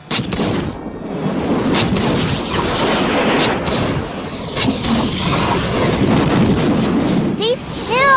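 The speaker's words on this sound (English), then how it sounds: "I'm trying to shoot you!" Video game gunfire from a Harley Quinn versus Jinx showdown sounds as repeated loud booming shots and blasts, with game noise and voices mixed in throughout.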